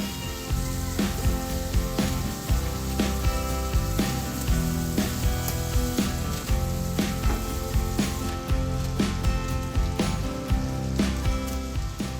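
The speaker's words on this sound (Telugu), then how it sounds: "ఇందులోనే వంకాయలు వేసుకుందాం ఇలా అన్నిటినీ కట్ చేసుకొని వేసుకుందాం" Cut brinjal pieces added to a hot pan for a chana dal curry, a loud, steady sizzle and crackle of frying with light stirring noises over background music.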